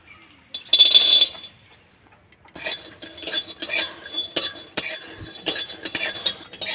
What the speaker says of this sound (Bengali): প্রথমে আমি চীনা বাদামগুলো শুকনো করে ভেজে নেব।